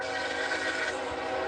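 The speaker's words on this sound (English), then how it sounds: "There's a train whistle in my ear." A train whistle blowing near an RV park in Mississippi at night, a loud sustained steady tone with rumbling underneath, filling the whole moment without talking.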